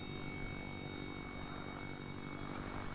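Steady droning propeller engine of a WW1 plane in the game Over The Top: WW1, a loud continuous hum with no break, flying during plane combat.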